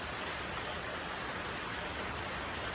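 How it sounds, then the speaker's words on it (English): Steady rain falls outdoors, a soft continuous hiss of drops with no other sounds over it. "started raining."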